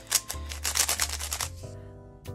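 A Walmart speed cube is turned quickly by hand, a dry, rapid series of plastic clicks and clacks for over a second, then a pause before one last click, close and fairly quiet.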